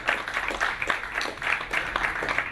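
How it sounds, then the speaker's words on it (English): An audience claps and cheers for former footballer Dean Windass before a Hull City versus Arsenal match, a steady wash of applause in pulsing waves, fairly near and filling the whole stretch. "A round of applause for Dino."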